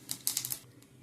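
Mustard seeds and cumin crackle in hot oil as a tempering for Kolhapuri masoor rassa: a short burst of close, sharp popping clicks that fades to a softer sizzle, with no talking.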